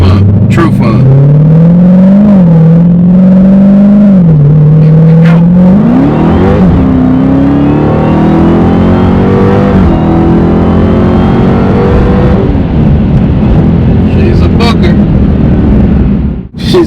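A Dodge Hellcat with a new exhaust mod revs hard and loud up close, engine pitch climbing and dipping through repeated throttle blips before a long sustained rising roar, with faint voices underneath.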